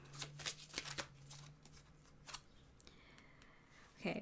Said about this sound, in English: Shuffle the card one more time.